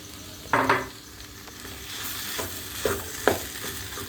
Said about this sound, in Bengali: মশলার সঙ্গে মাছের সঙ্গে আলু সেদ্ধটাকে খুব ভালো করে মিশিয়ে নিতে হবে